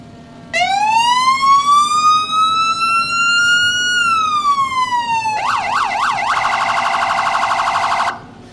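A loud emergency vehicle siren blares at a holiday parade on Main Street, rising in a long wail, then switching to a rapid warbling yelp that continues for several seconds.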